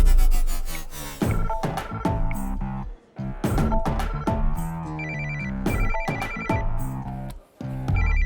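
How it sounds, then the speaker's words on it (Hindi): A phone ringtone plays loudly as a repeating electronic melody, pausing briefly between phrases; no talking. "किसका फोन है?"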